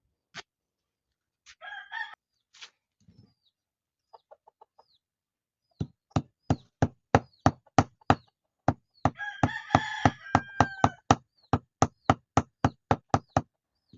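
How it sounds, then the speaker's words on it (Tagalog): A hammer flattens a leg tie for jungle fowl with sharp, evenly spaced knocks, sparse at first and then in a steady run, while a rooster crows and hens cluck in the background. "pupukpukin na lang natin to ng martilyo para lumapad"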